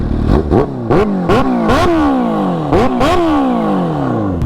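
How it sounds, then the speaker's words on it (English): A 2024 Kawasaki Ninja H2 supercharged sport motorcycle engine with an aftermarket exhaust revs hard in a rapid series of sharp throttle blips, each rising whine falling away quickly, loud and close. "Sound check on a Kawasaki Ninja H2 2024."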